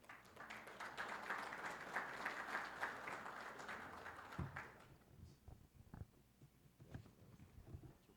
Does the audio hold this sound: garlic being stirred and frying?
no